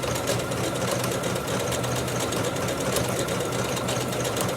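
A sewing machine runs steadily through a reinforced stretch stitch on fabric, its fast, even mechanical whir continuous and close with no talking.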